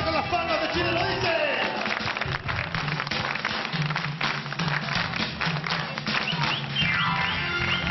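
A Chilean folk performance audience claps along in rhythm with their palms, steady and continuous beneath singing and music.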